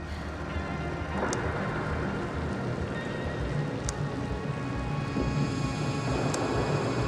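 Steady rain pours through a thunderstorm in the sci-fi game The Invincible, a dense continuous wash with a few brief sharp crackles, no voices.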